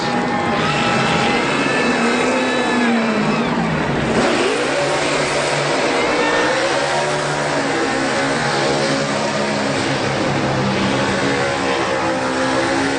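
A NASCAR Xfinity stock car at Indianapolis Motor Speedway roars loudly during a burnout, with engine pitch swinging up and down as it revs against a dense, harsh wash of noise.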